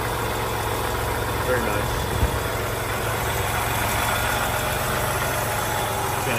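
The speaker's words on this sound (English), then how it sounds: "So we'll take a look inside the engine again with it running." A supercharged 1941 Graham Hollywood engine idles steadily with a low, even hum, close and continuous, while a person briefly speaks over it.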